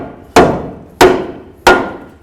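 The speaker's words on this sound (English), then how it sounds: "A couple loving bonks with your rubber mallet." Three evenly spaced, solid thuds as a rubber mallet strikes the lower knuckle during a front lower control arm replacement on a 2007–2014 Ford Edge, each blow close and sharp with a short decay.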